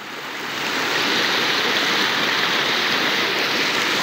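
Floodwater in a swollen river rushes loudly and steadily, a dense continuous roar close by that swells in over the first half second and then holds without a break.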